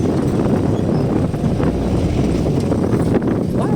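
Strong wind buffets the microphone on an access road from Sahud Ulan to Trece Martires, Philippines, with a steady low rumble and roar throughout, no voices heard.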